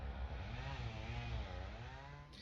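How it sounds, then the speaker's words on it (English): A chainsaw runs steadily nearby in a neglected UK garden, a loud continuous motor drone with a slight rise and fall in pitch and no pauses. "just hearing chainsaw all the time"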